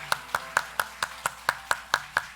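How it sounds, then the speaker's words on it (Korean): A few people clap in unison in a church service, about ten evenly spaced sharp claps over two seconds, close and moderately loud with no talk over them. "박수로 축복드리시겠습니다."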